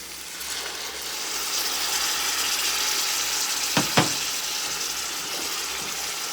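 Beef broth poured a little at a time into a hot pan to deglaze it for chili, a steady close sizzle and hiss with a couple of brief clinks partway through.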